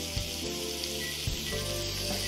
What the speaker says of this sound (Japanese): 塩コショウをしてない面をフライパンに乗せて焼いていきます